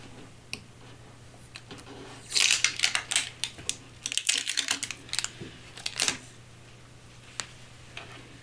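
Protective film being peeled off the bed of an Ender-3 S1 Pro 3D printer, heard as a run of close crackling, ticking tears in bursts over a steady low hum, with no talk.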